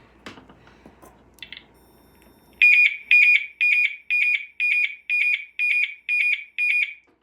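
Potter fire alarm device sounding after setup: a few faint clicks and handling noises, then a loud, piercing electronic tone pulsing in nine even bursts about every third of a second, close and alone.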